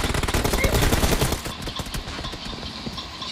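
Heavy automatic gunfire in a video game scrim rattles in dense rapid bursts, loud at first and then thinning into scattered, slightly softer shots toward the end.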